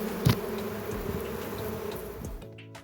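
Honeybees from a stray swarm buzz around a hive, a soft, continuous hum with a brief louder burst near the start before it fades into quiet.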